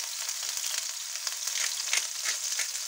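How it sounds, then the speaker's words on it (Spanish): Mushrooms sauté in oil over high heat, giving a steady, bright, close sizzle with crackling pops and no voices. "Venga, salteamos los champiñones."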